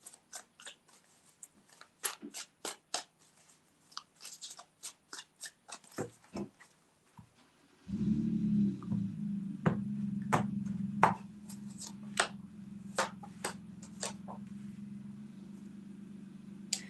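A tarot card deck being shuffled in a few quick passes: sharp, close rustling snaps and flicks in bursts, later over a steady low hum.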